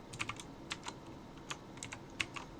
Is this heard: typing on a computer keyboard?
yes